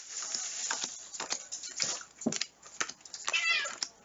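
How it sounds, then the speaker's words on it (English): A cat gives a few sharp meows after its tail is stepped on indoors, the cries loud and close, broken up by shuffling and other room noise. "was me stepping on the cat's tail by accident."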